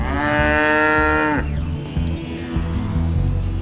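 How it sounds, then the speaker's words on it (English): Island cattle mooing loudly and close, one long sustained moo for over a second, followed by lower overlapping calls and grunts from other cattle. "Cattle are the largest livestock on the island"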